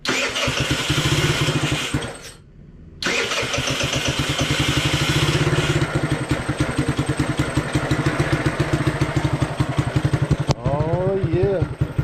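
Old scooter engine cranked by its starter, catching after a brief pause and settling into a loud, close, steady putt-putt idle with regular pulsing beats; a voice speaks briefly near the end.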